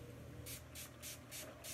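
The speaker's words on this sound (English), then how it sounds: "I'm just spraying my brush down with water" A spray bottle mists water onto a paint brush used with water-based paints, giving four quick, close hissing bursts in an even rhythm over a faint background hum.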